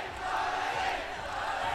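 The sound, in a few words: live event crowd cheering just outside the broadcast room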